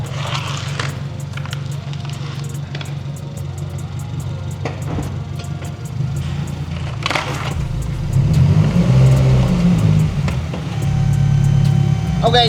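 A lowered Subaru car creeps up onto bricks and ramps, its engine idling low beneath crunching, scraping contacts and a few sharp knocks, with the motor swelling louder near the end as it climbs; people speak briefly over it.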